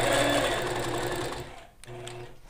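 A sewing machine stitches rapidly while quilting feathers along a rose feather ruler, a loud steady whir that slows and pauses briefly before starting up again.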